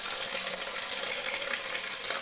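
Blackcurrants and their dark liquid pour into a straining bag during homemade wine making, a loud continuous gushing splash close by that runs without a break, with nobody speaking.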